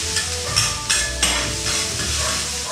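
Garlic and onions fry for Japanese fried rice, giving a loud, steady sizzle close by, with a few stirring scrapes and light clinks of metal on the pan.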